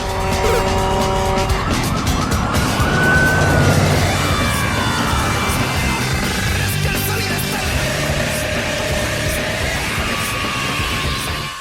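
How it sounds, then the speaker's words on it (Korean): A fire engine arriving to put out a fire, its siren wailing and sweeping in pitch over loud, continuous traffic and engine rumble, with no talk. "월터 앞의 모습을 드러낸 건 그를 잡으러 온 경찰이 아닌 화재를 진압하기 위해 출동한 소방차였죠"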